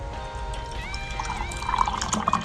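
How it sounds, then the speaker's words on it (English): Hot cocoa poured into a cup in a kitchen, a soft liquid stream that grows into brighter trickling and splashing as the cup fills, heard up close and with no talking. "let me see if I can pour this for you"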